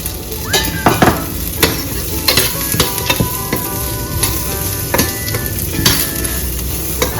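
Already-roasted peanuts are briefly dry-toasted with half a spoon of salt in a pan. Close, steady sizzling hiss is punctuated by frequent sharp clicks and scrapes of stirring.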